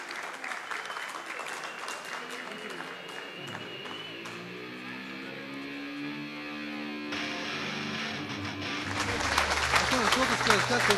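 Audience at a Berkut Cup 2013 fight between Shamil Soltageriev and Aslan Pidaev applauding the fighters: dense clapping sustains throughout and swells louder near the end, with an announcer's voice over it early on.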